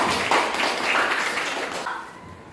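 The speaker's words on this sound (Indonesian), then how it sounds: "Iya, tepuk tangan." A group of students claps together in a classroom, a brief, bright burst of many hands that peaks quickly and fades over a couple of seconds.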